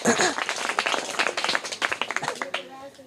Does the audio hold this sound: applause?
yes